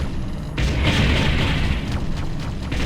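A building blows up in the real-time strategy game Ground Control, a heavy booming blast that swells suddenly and rumbles on with crackling debris, loud and close with no talk over it.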